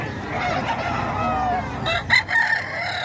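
A roughly nine-month-old National Banded rooster crows nearby in a single drawn-out call over steady background noise at a Tondo fowl gathering.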